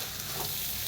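Potatoes for vada pav filling stirred into a roasted spice mixture in a hot pan, a brief, steady low sizzle with soft stirring, no voices.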